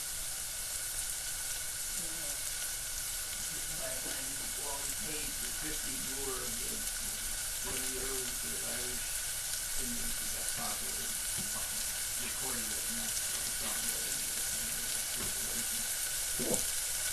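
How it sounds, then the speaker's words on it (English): Steady sizzling of honey mushrooms frying in a pan, a soft continuous crackle with occasional pops, fairly quiet and close. "it's slimy foam that I'm cooking out of these mushrooms"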